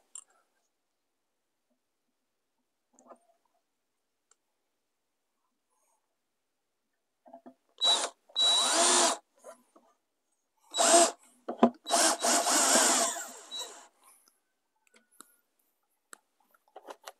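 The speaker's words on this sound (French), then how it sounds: "je dois tenir la planche et visser en même temps" A power screwdriver drives screws into wooden formwork boards for a foundation, in two close bursts of whirring, each a few seconds long and separated by quiet, with faint knocks in between.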